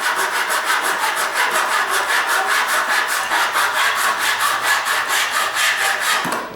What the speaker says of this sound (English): I'm still going to have to use my rasp.